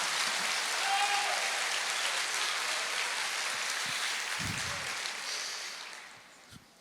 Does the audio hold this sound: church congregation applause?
yes